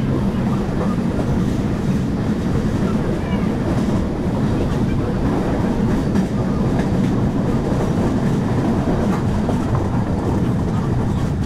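The Darjeeling Mail passenger train runs on the rails in India with a loud, continuous rumble and clatter, heard from inside amid steady wind-like roar without pause.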